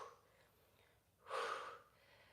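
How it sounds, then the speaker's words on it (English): A single sharp, breathy exhale during a home Pilates workout, close and brief, rising suddenly and trailing off quickly, alone against quiet room tone. "Lift to breathe out."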